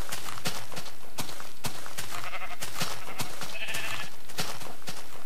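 Sheep in the Minecraft video game bleat several times, mixed with blocky footstep clip-clops and game sound effects, loud and close with no talking.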